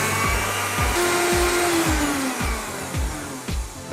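An electric mixer whirs at medium speed, beating cream cheese, mascarpone and speculoos paste together, a loud close motor drone with regular rhythmic thumps as the beaters churn the thick mixture, no voices.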